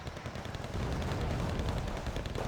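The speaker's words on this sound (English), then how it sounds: "IL-28 dropping in its bombs." Bombs dropped by an IL-28 bomber in the Wargame Red Dragon game strike in a dense, continuous rumble of blasts. The barrage is heavy and low, swells after the first second and holds steady.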